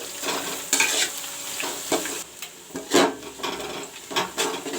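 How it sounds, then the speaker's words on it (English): Cut onions frying for a mutton curry give a close, fairly loud scraping and sizzling as a spoon stirs them in rhythmic bursts against the pan. No one speaks. "now I will put the cut up onions. I will let this onion turn brown"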